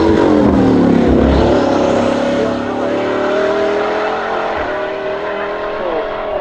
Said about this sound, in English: the Ducati Bolide that is making its way up the hill